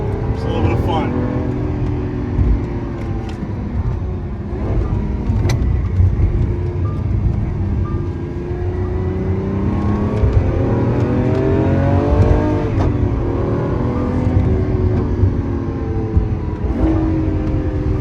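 A Lamborghini Aventador SVJ engine drones and rises steadily while driving and accelerating, loud and close throughout, with someone talking over the continuous roar.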